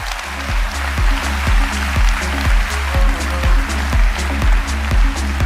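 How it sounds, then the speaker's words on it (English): A large conference audience applauds steadily as a CEO is welcomed on stage. The dense clapping is heard over a regular thumping musical beat. "Please give a round of applause for Jamie Dimon, Chairman and CEO of JP Morgan Chase."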